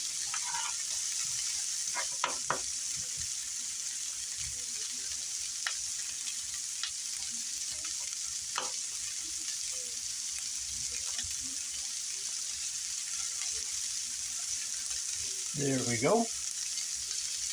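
Garlic and onions sauté in oil in a pan, giving a steady, even sizzle throughout with a few scattered stirring clicks and a brief louder burst of activity near the end; a voice speaks briefly.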